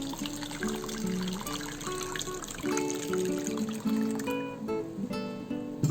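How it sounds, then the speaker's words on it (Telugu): Water pours into a bowl of soaking batter ingredients, a steady close trickle and splash running for several seconds beneath faint background tones. "వాటర్ యాడ్ చేసుకున్నాము"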